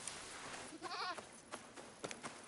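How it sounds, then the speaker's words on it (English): A goat bleats once, faint and brief, in the video game Assassin's Creed Shadows, a wavering cry over a steady background wash of game ambience. "I swear I heard a goat somewhere"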